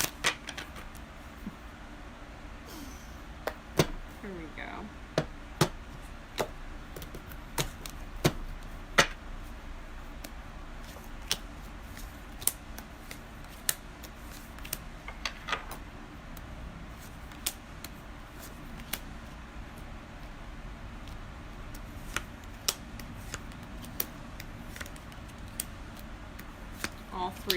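Tarot cards shuffled by hand, a steady run of soft, quiet papery clicks and flicks throughout, with a brief spoken remark near the start.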